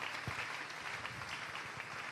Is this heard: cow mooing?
no